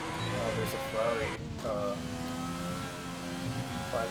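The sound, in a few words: Ferrari 500 race car engine accelerating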